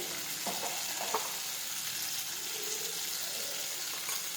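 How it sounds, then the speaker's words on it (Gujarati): Cumin, chilli powder and other spices fry in hot oil with cooked-down tomatoes for sev tameta shak, a dense close sizzle with a couple of brief clinks as the spices go in, and no talking. "હવે આપણે તેમાં બધા મસાલા નાખી દઈશું. જીરું નાખીશું, ચટણી નાખીશું,"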